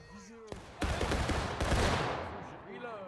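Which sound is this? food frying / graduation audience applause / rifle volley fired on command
rifle volley fired on command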